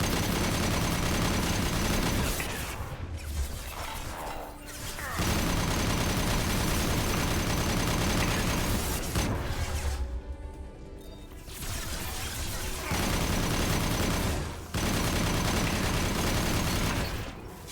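Overridden turret firing in Mass Effect 2, a loud, dense stream of rapid automatic gunfire with near-continuous bursts and short breaks, heavy and close throughout.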